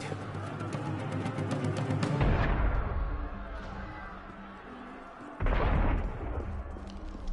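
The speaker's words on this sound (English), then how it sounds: "That was cannon fire." Cannon fire in the Assassin's Creed video game: two heavy booming blasts several seconds apart, each a loud broadband burst that rolls off slowly over a dense bed of in-game ambience.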